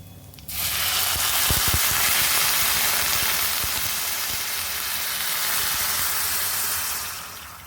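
A loud burst of sizzling as water hits a hot pan, settling into a steady hissing bubble that fades near the end.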